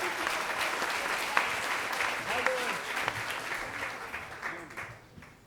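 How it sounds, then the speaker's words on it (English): Quiet, steady audience applause at a homecoming event, a room of people clapping continuously with a few sharper claps standing out before the sound tapers off. "How about a big round of applause for Elizabeth?"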